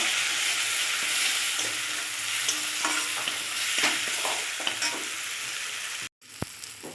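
Turmeric and ginger are sautéed in a pan with a loud, close sizzle and repeated scraping stirs, followed by a short silent break and a faint knock.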